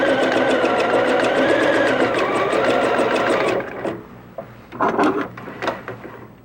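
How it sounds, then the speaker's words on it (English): A sewing machine zigzag-stitches along a fabric seam, running loud and steady for about three and a half seconds, then stops, followed by a few faint handling clicks and short rustles. "And just zigzag along that seam."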